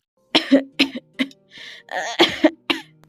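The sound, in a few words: grandmother coughing in cartoon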